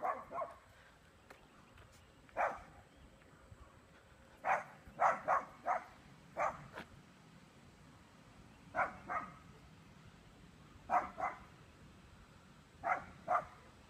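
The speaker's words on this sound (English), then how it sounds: "Dog." A dog barks somewhere in a Kyle, Texas neighborhood at night, single and doubled barks at a moderate distance, spaced irregularly over a quiet background.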